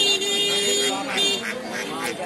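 Black and white geese at the Mataji poultry market give a run of repeated nasal honks close by, under people talking.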